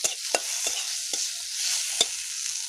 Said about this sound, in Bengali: এবার আমি দিয়ে দেবো টমেটো কুচি। টমেটোর সঙ্গে একটু নেড়ে চেড়ে